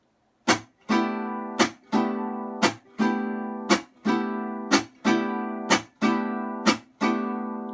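A vihuela is strummed downward with the thumb in single ringing strokes, about ten in a steady, unhurried rhythm, each chord decaying before the next.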